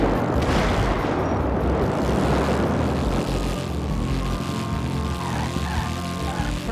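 A fully modified Bullet motorcycle engine in GTA 5 roars in a loud, steady, rumbling drone that holds throughout with no pauses, easing slightly toward the end.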